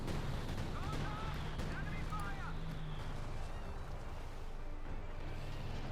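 Heavy artillery blasts and crumbling destruction as a howitzer and a house are destroyed in the real-time strategy game Company of Heroes 2, a dense, continuous rumble of explosions throughout, with a faint commentator's voice underneath.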